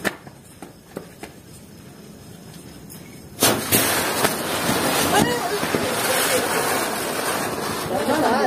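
Circus firecracker set off for Diwali, bursting with a sharp bang and then a loud sustained fizzing spray like a spinning ground chakra, after a few faint pops and clicks.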